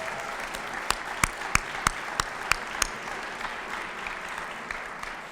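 An audience at the Framingham State of the City Address 2025 applauds singer Maddie after her national anthem performance: steady hall-wide clapping with a handful of sharper, louder individual claps punctuating the first few seconds, then settling into an even wash.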